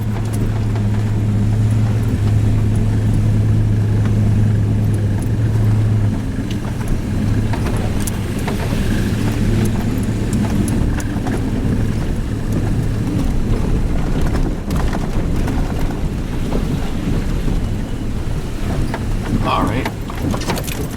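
A truck jolts along a rough, potholed backcountry road with a loud, steady engine drone, continuous rattling and knocking from the body, and occasional voices under the noise.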